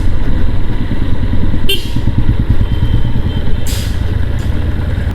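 A motorcycle engine runs steadily with a pulsing low throb while the bike is ridden, loud and close throughout, with a couple of short bright bursts of noise over it.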